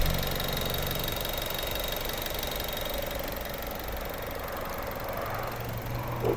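A 2009 Mazda 6 Sport with a 2.0-litre petrol engine and automatic gearbox idles steadily nearby, a smooth, even mechanical hum with a faint ticking texture running unbroken and alone.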